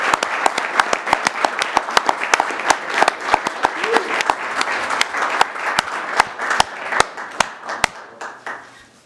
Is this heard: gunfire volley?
no